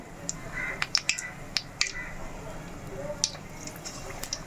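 Chicken bonda dropped into hot oil for frying, a soft bubbling sizzle with scattered sharp pops and crackles, close but fairly quiet, with faint speech in the background.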